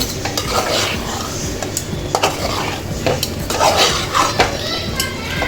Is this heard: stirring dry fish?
yes